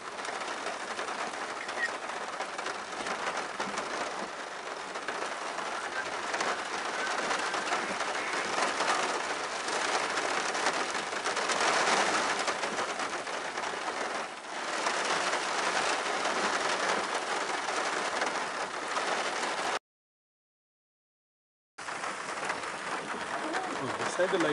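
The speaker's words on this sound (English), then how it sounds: "I think it could be the rain." Steady hiss of rain falling around Sariska National Park, India, broad and continuous for most of the stretch, with a brief total dropout near the end before it resumes.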